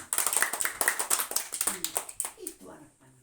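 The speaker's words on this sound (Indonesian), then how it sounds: "Iya, tepuk tangan." Schoolchildren in a classroom clapping their hands together in quick, uneven bursts, close and lively, while young voices chatter over the clapping before it trails off near the end.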